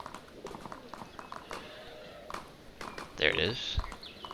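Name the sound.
horse hooves clip-clopping while riding in video game Gedonia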